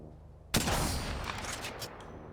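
Gunfire in the Apex Legends video game: a sudden loud burst of shots breaks in after a quiet moment and rolls on as a dense, crackling volley with a few sharper reports near the end, with no voices.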